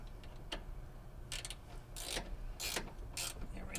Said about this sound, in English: Tighten this one down a little bit before I take my wrench. Tighten them the final way.